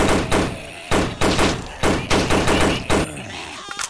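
Rapid gunfire bursts from the zombie shooter game Invention 3, a Left 4 Dead clone: loud clustered volleys of shots with short gaps between them, close and punchy, then a few lighter thuds near the end.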